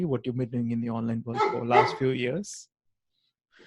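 Dogs bark and yip indoors at home, mixed in under a steady stream of nearby conversation, with the sound dropping to near silence at the end.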